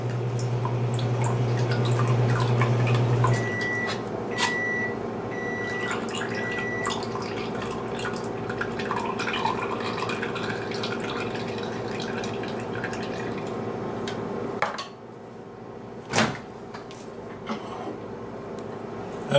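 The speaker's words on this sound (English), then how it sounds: "drain all the juice into a bowl or a mixing cup or whatever you want" Juice from canned sliced peaches drains into a bowl as a steady, close trickle of liquid over a low hum, fading out partway through, followed by a couple of faint clinks and taps.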